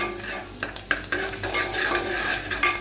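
Broad beans stirred and frying in a pan, with a steady sizzle broken by repeated scraping and clinking stirs of the utensil, close and fairly loud, with no talking.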